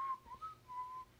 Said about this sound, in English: he's just whistling down the street